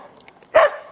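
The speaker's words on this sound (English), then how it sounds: "Why don't you play and not bark? No barking." A dog gives a single sharp bark while playing in the snow, close and sudden after a few faint yips.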